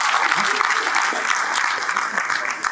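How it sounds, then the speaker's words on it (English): Steady applause from an audience, a dense wash of clapping that holds at an even level throughout. "Please give David a round of applause once again"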